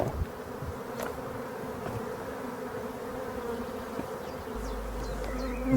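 Two honey bee swarms at hives produce a steady droning buzz, with individual bees zipping past near and far against a continuous hum.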